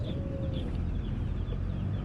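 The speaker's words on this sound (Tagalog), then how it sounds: "May mga manok dito maliliit oh mga tol." Broiler chicks peep and chickens cluck in a pet shop, soft scattered chirps over a constant low rumble of room noise.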